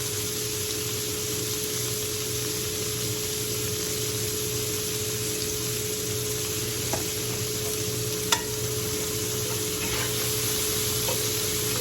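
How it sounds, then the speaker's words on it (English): Vegetables seasoned with salt and pepper sweat in a pan, giving a steady, even sizzle that runs unbroken throughout, close and fairly loud, with a couple of faint clinks. "we're going to allow that salt to help sweat these vegetables out"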